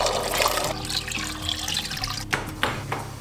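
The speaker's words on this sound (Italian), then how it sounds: "Ora non ci resta che aggiungere l'acqua e accendere il fuoco." Water poured from a tap or jug into a pot of borlotti beans on a kitchen stove, a steady close splashing fill with a few sharper splashes toward the end, no talking.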